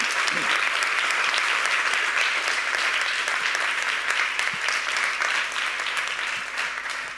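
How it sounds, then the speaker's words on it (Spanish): An audience at a public science talk applauds loudly and continuously, a dense even patter of many hands clapping that holds steady before easing slightly at the end. "Me gustaría dar un aplauso muy fuerte a Daniela."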